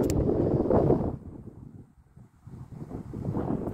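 Strong outdoor wind buffets the microphone in heavy low rumbling gusts, easing briefly in the middle before surging again.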